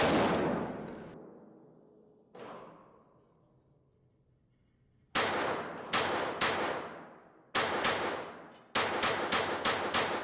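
A Kimber 1911 pistol fitted with a .22LR rimfire target conversion kit fires CCI Mini-Mag rounds: one sharp close shot, a pause, another shot, then two quick groups of rapid cracks, each with a short ringing tail.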